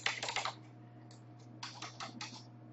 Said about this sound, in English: if I try to type something in here